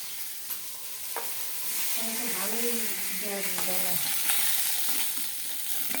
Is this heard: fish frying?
yes